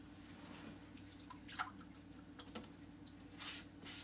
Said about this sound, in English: We're gonna let this dry for a second while I wash these transfers.